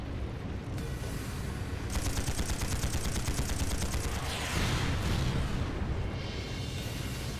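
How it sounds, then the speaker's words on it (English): Combat in Trails of Cold Steel as tanks are attacked and blown up, with a dense stream of rapid gunfire, booming blasts and sweeping explosive rushes, loud and continuous throughout. "you shouldn't be blowing up the freaking tanks"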